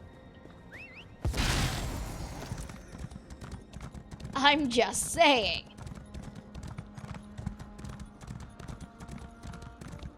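A horse in a video game, its hooves clip-clopping steadily beneath game effects, including a sharp burst and a brief whinny-like cry, with people talking over it.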